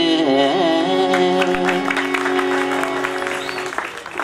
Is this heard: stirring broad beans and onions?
no